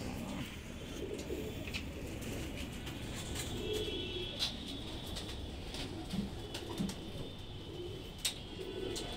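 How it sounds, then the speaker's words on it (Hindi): Soft green-eyed Punjabi pigeon coos sound now and then over a constant outdoor hiss, with a few faint clicks and taps scattered throughout. "हरी आंख का कबूतर है, ग्रीन आइस"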